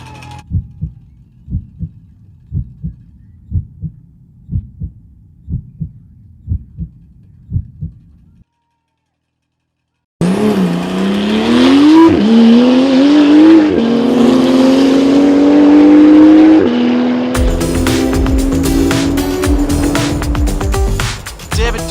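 A Porsche race car launches off the start line at the Pikes Peak hill climb, its engine roaring loudly and climbing in pitch through several gear changes. The roar follows a run of rhythmic heartbeat-like thumps and a brief silence.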